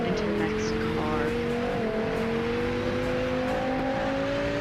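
An engine in the Greenville driving game accelerates steadily toward a 161 mph top speed, its tone climbing in one smooth, continuous rise.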